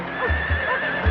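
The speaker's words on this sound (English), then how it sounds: "William John Wills, surveyor and astronomer, is leading the pack horses with his instruments and notebooks" A pack horse on an 1860s Australian expedition whinnies loudly close by, its neigh accompanied by a few heavy hoof clops.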